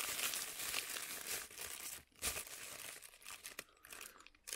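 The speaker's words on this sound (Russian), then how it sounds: "Сегодня у нас будет распаковка долгожданной посылки из Китая." A long-awaited parcel from China, holding a silicone case for Xiaomi AirDots Pro 2 earbuds, is unwrapped with close crinkling and crumpling of plastic packaging, some brief tearing, in uneven bursts with short pauses.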